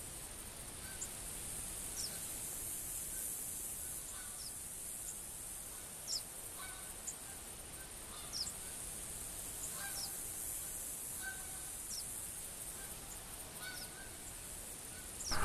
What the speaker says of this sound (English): You got geese coming, though.